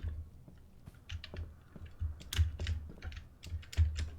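Keyboard and mouse clicks come in scattered, uneven bursts while someone steers a character with tank controls in the Silent Hill–style horror game Lake Haven -chrysalis-. The clicking stays close and fairly soft, with low thumps underneath.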